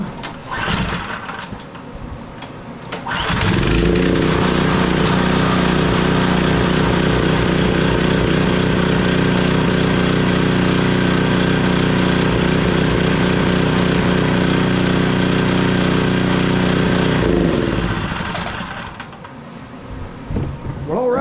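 A Murray pressure washer engine sits close by. It gives a brief start, then runs loudly and steadily for about fourteen seconds before winding down, with faint handling noises before and after.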